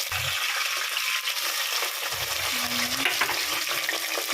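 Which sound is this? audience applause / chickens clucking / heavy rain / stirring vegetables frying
stirring vegetables frying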